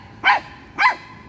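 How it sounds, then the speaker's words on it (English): A dog barking at a rooster gives two sharp barks about half a second apart, close and fairly loud. "Why are you barking the rooster?"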